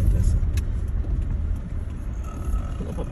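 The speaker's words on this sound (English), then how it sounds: "There's one car coming on this side." A car rumbles along a road, its engine and tyre noise steady and fairly loud as it drives past, with a light hiss of wind and no clear speech.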